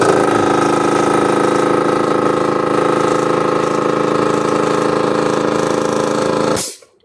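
A 2hp Vespa air compressor's motor runs with a steady, loud mechanical hum and drone for several seconds, then cuts off abruptly near the end.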